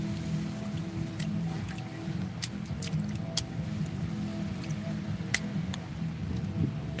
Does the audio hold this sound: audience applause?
no